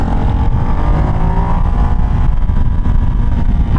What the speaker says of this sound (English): Today I'm riding the new Ducati Hypermotard 698 mono.